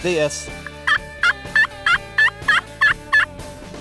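A Flextone Run and Gun double glass turkey call played loud out of its case, giving a rapid series of about eight sharp, close yelps in a steady rhythm, with a brief spoken word at the start.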